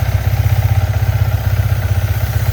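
A motorcycle idles right after a cold start, its engine close and loud with a steady, fast low-frequency pulsing and no talk over it.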